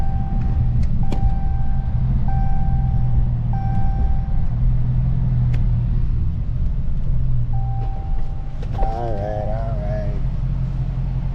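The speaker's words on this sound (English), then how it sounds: "we test driving right now" Truck engine idling and rumbling at operating temperature during a test drive, a continuous loud low drone with brief clicks and someone talking near the end.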